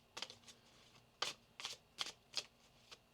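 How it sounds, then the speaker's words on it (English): A deck of tarot cards is shuffled by hand in a quiet room, a series of crisp riffling bursts, about six distinct shuffles in quick succession, close and clear with no talking. "One more shuffle, please, and thank you."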